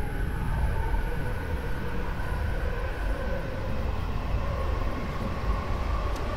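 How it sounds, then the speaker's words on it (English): A train passes in Train Simulator Classic on the Tohoku and Utsunomiya commuter lines near Tokyo, making a steady, continuous rumble of wheels and rolling stock that holds at an even loudness throughout. "Okay, so this is the other train"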